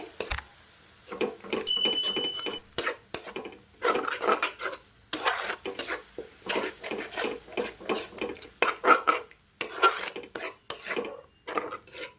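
Methi leaf curry with yogurt being stirred in a pan, a rapid rhythmic series of close scraping, rasping strokes of a spoon against the pan with brief pauses between bursts.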